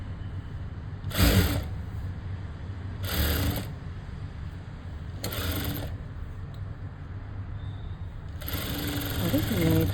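A sewing machine stitching a plain blouse sleeve runs in four short, loud bursts separated by pauses, with a person talking nearby.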